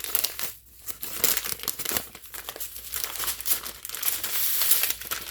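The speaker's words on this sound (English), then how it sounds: "you tear open the wrapper there" A crinkly plastic packet of coating mix for pork chops is handled and torn open, giving close, continuous crumpling and crackling rustles with a few sharper tearing bursts and no talking.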